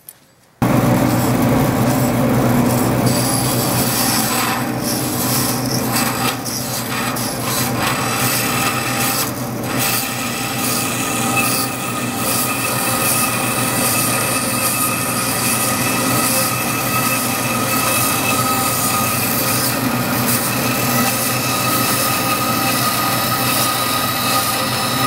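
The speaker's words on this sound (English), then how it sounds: "so we'll bandsaw that off" A bandsaw runs steadily through a workpiece in a workshop, giving a continuous grinding, rubbing drone with faint squealing overtones. It starts abruptly and holds at a loud, even level for the whole stretch.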